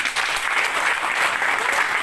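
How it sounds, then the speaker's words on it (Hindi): A room full of people breaks into loud, sustained applause, a dense even wash of clapping filling the whole short moment without pause. "आप सबके लिए जोरदार ताली।"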